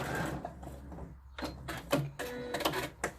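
A sewing machine runs in short bursts while back stitching at the end of a seam on a scrub bag, with quick clattering stitch runs and pauses between them.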